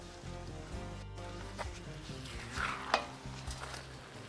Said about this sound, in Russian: Вот так перемешиваем.